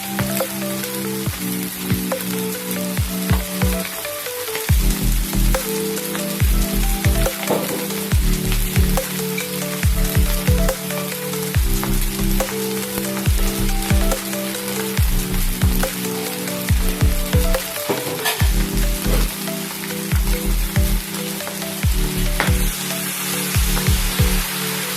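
Bihun rice noodles with sweet soy sauce, thick soy sauce and oyster sauce stir-fried in a pan, a steady close sizzle with rhythmic scraping and tossing strokes repeating throughout, no talking.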